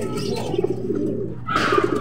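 Racing pigeons coo softly and repeatedly up close as a bird arrives at the loft, with a brief flutter-like rustle partway through.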